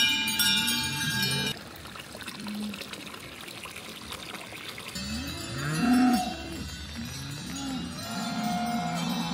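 Cows moo repeatedly on an Alpine dairy farm in Austria, near and loud, while cowbells clank and water trickles in the background, with intermittent talking over parts of it.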